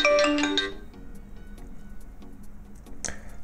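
A phone rings when a NO.1 SUN S2 metal smartwatch's anti-lost finder triggers it, sounding a bright, loud chime for under a second before a fainter ringing pattern continues.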